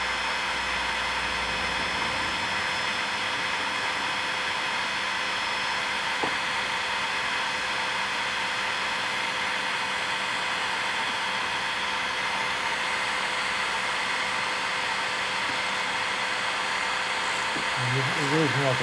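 A heat gun blows steadily while heating heat shrink over a soldered wire joint on a 1968 BSA A65 wiring job, a constant close airy roar with a faint voice under it.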